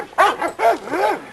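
A Tonka-bred dog gives three quick, high yelping barks close by in a yard, with short pauses between them.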